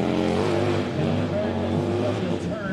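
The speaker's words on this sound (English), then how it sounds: "this motor is very deep in sound and very unique" Deep, rumbling Harley-Davidson motorcycle engine idling at a hill climb event, loud and steady throughout with a low throbbing tone, while a crowd and announcer voices carry on underneath.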